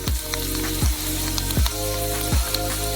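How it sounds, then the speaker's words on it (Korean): Rice dropped into hot oil and puffing up like popcorn, a loud continuous sizzle of frying broken by four evenly spaced sharp whooshing bursts, close and steady. "뜨거운 기름에 튀기면 돼요. 즉시 펑 튀겨지면서 팝콘처럼 부풀어 오른 쌀로 변해요."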